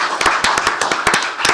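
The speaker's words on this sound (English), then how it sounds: "Let's give a round of applause." Applause at a county commissioners court session honoring an employee's 25 years of service: sparse, separate claps and taps over about a second and a half, fairly close, with no one talking.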